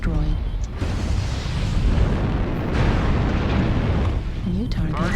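A mech explodes in the video game MechWarrior Online. A loud, rumbling blast fills the scene with dense crackling noise, layered with other game audio.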